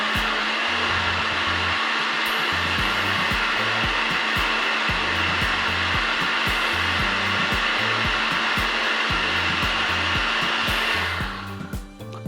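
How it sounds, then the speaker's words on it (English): A blender purees green goddess dressing with herbs and anchovies, a loud, steady motor whine with a rhythmic churning pulse that runs without pause for about eleven seconds before cutting off. "Just puree it up."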